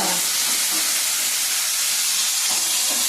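Raw green tomatoes fry in a pan for roti chutney, giving a loud, constant close-up hiss of sizzling oil that barely changes from start to finish.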